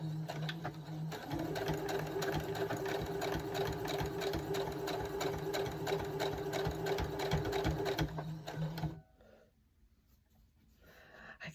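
A sewing machine runs during quilting with a steady, continuous mechanical whir for about eight seconds at close range, then stops, leaving a quiet room.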